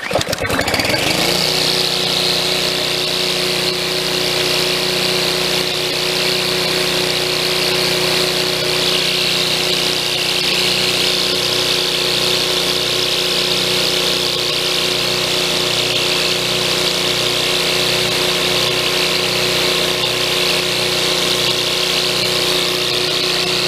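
A small engine catches after a quick start and settles into a loud, steady running drone with a pulsing rhythm, close by, continuing alone for over twenty seconds.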